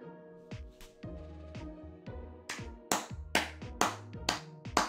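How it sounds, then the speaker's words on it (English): Sharp hand claps in an irregular burst, loud and close, over a low electronic musical drone. "That's me clapping."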